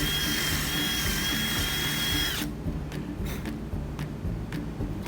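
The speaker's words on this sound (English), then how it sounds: "we drill another hole." A power drill bores a hole through a scarecrow's head piece, a steady high whine for about two seconds, then stopping, followed by faint clicks and handling noise, close and fairly loud.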